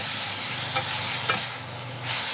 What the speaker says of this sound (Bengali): পেঁয়াজটা ভাজা ভাজা হয়ে গিয়েছে এবার এর মধ্যে আমি ওই রসুন টমেটো আর কাঁচা লঙ্কা মাখানোটা দিয়ে দিলাম